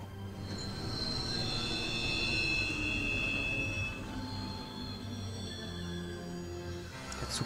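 A train in Final Fantasy XV rolls along with loud, sustained wheel squeal and a constant rumbling rail drone, close and steady for the whole stretch, with no voices.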